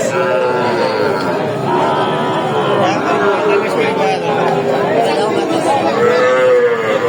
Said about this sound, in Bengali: শাহিওয়াল ষাঁড় বাচ্চার লট কিন্তু 4 পিস।